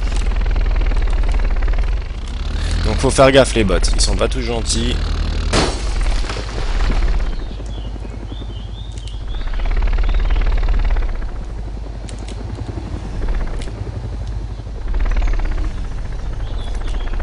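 A helicopter hovers in the video game DayZ, a low steady rotor drone that swells and fades in waves, with a burst of crashing and breaking noise early on and someone talking briefly.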